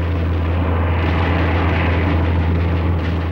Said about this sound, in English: The Spitfire simply flies out of reach.